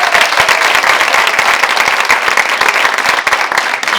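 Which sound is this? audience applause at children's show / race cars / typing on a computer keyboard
audience applause at children's show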